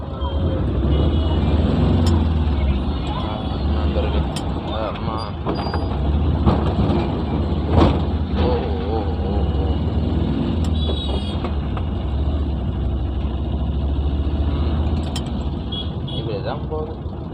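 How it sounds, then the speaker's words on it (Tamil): Steady evening road traffic rumbles without a break, with engines, passing vehicles and mechanical rattles blending into a dense, loud wash. Voices are faintly present within it. "ஒரு டிராஃபிக் ஆகிடுச்சு ஈவினிங் டைமில்"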